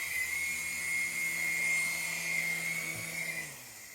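Harbor Freight 59809 small RC helicopter flying indoors and coming in to land, a steady high-pitched electric rotor whine that holds constant and fades slightly toward the end.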